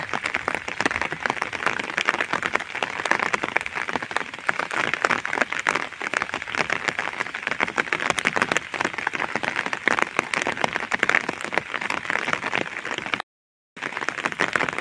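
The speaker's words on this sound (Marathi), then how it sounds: "पाण्यामध्ये जो पाऊस पडतोय त्याचा थेंबांचा आवाज येतो" Steady village rainfall, heard from under an umbrella as it falls on open water and the ground, making a dense, continuous hiss of drops that stays loud the whole time apart from one brief dropout near the end.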